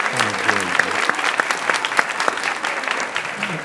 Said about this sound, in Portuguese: Vamos aplaudir o Davi